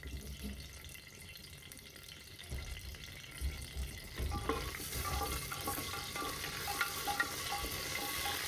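Garam masala dropped into hot oil for beef korma, quiet at first, then a sizzle bursts in and keeps crackling steadily with some stirring, close and moderately loud.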